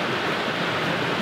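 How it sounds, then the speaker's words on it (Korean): Steady broadband rush of a valley stream flowing beside a snowy winter campsite, continuous and even throughout, with no voices over it. "앞쪽에 물소리도 너무 듣기 좋아요"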